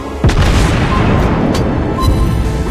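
Heavy cruiser gunfire in the World of Warships Blitz naval battle game, played in the Japanese Tier IV cruiser Kuma, with a loud booming shot followed by rumbling explosions and a dense, roaring battle din.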